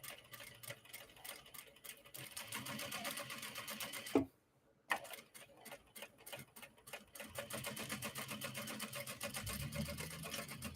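A sewing machine back-stitches across the fold of a fabric bag in a fast, steady run of needle clatter. It pauses briefly for a moment of near silence, then resumes stitching.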